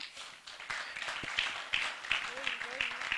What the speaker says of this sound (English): Please, a round of applause for the theme.